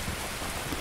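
Steady rain in the video game Escape from Tarkov, falling in a dense, even hiss across the whole moment with no talk over it.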